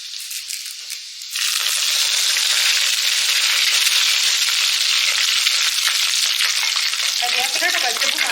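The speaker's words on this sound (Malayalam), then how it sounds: "അത് നമുക്ക് കരിവേപ്പില ഇട്ട് കൊടുക്കാം" Curry leaves dropped into hot oil with popped mustard seeds for a Kottayam-style beef fry: a quiet simmer swells into a loud, steady, crackling sizzle that holds at close range, with no talk.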